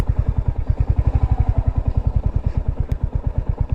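A Royal Enfield Hunter 350 motorcycle heads down a rough off-road track, its engine giving a loud, close, steady thumping beat throughout.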